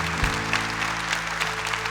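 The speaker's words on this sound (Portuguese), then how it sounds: "Vamos aplaudir o Senhor." A congregation applauds during a Catholic church service, a brief, thick burst of many hands clapping over faint lingering tones.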